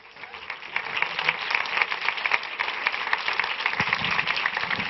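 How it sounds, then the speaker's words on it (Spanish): A comedy show audience applauds to welcome a performer to the stage, a steady, fairly close patter of many hands clapping that holds at an even level throughout. "fuerte aplauso para Juan Ramón"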